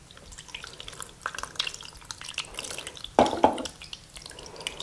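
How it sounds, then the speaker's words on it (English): Liquid trickles and drips softly nearby as it is poured over cube steaks in a slow cooker, building to a brief heavier splash of pouring before settling back to light dripping. "we're going to pour this all over our cube steaks"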